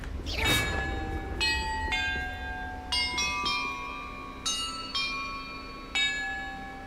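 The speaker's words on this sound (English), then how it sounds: "Perhaps the map contains clues about the order I'm supposed to ring the bells in." Bells in the Hogwarts Legacy video game ring one after another, bright sustained tones struck at uneven intervals and overlapping as each fades, heard clearly without talk.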